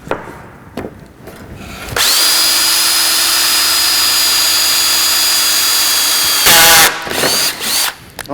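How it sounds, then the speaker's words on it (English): A power drill whirs into wood in one long, loud, steady run, pre-drilling during pallet racking assembly, then revs briefly and stops, with a few clicks and handling noises around it. "And we're going to pre-drill it."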